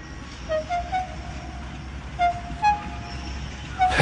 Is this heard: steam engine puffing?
yes